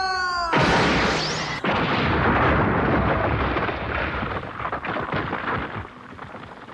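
An anime character fires a full-power energy shot in a Yu Yu Hakusho episode. A short tonal whine leads into a sudden, loud, roaring blast that rumbles on for several seconds before fading.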